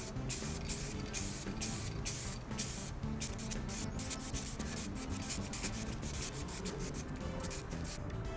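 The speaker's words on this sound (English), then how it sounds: "Alright, so time to apply the lacquer." Matte lacquer sprays from an aerosol can onto a Game Boy Advance shell in repeated short hissing bursts, quiet and close, with no talk.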